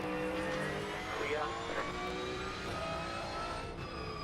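A GT3 race car engine in the iRacing simulator at Tsukuba, a continuous droning whine with rising and falling pitch through gear changes, steady and moderately quiet.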